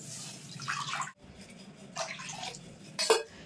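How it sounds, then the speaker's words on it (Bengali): Water is poured into a kadai on a gas stove in a home kitchen for mango drink, making soft, faint splashing bursts separated by brief pauses. "এবার কড়াইয়ের ভিতর দিয়ে দেবো জল।"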